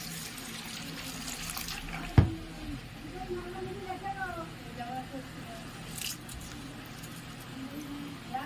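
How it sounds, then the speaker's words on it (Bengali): Gobindobhog rice being gently rinsed in water in a sink, giving soft, faint sloshing and trickling with a low steady background and a voice murmuring at times. "বেশি ঘষবো না, একদম হালকা করে আমি চালটা ধুয়ে নিলাম।"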